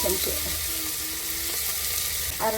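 Crushed onion with turmeric powder and masala frying and being stirred in a pan for North Karnataka coconut-milk sambar, a close, steady sizzle with a few soft scrapes of the spoon, and no talking.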